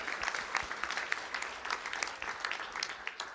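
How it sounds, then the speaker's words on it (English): An audience at a school district board of trustees meeting applauds students, a steady, moderately quiet patter of many hands clapping throughout. "A round of applause for these ladies."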